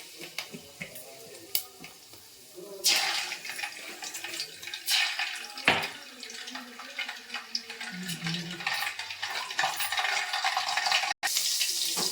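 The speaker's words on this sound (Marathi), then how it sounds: "आता फोडणी घालूया चला तर मग आता तेल टाकून घेऊयात" Oil heats in a pan for a chicken masala tempering, starting quiet and rising into a louder, crackling sizzle with scattered clinks and pops, close by and without talk.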